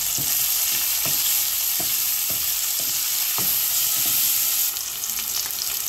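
Onions frying in a pan with two bay leaves and cumin, a steady close hiss broken by soft, irregular taps of stirring, with no voices.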